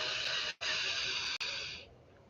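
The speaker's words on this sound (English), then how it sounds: "Breathing it in" A long, deep inhaled breath, airy and close, is broken by two brief pauses before trailing off softly.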